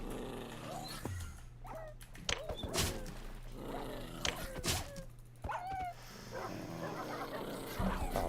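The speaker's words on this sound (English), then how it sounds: "Oh, fucking puppies." Dogs in a video game bark, yip and whimper in several sharp bursts spread across the stretch, with a steady low hum underneath and some faint voice-like sounds.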